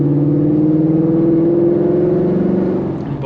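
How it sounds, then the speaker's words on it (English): A 2018 Mustang GT with a Corsa Sport catback exhaust hums in a steady, deep, moderately loud drone, easing off slightly at the end. "I wouldn't call this a loud exhaust."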